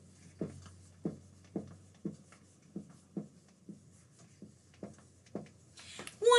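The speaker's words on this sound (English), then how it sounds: "all of my jewels are hitting the board as I try to write" Jewelry clacks against a whiteboard as someone writes a number, producing about a dozen soft, evenly spaced knocks close by, with a brief brighter scrape right at the end.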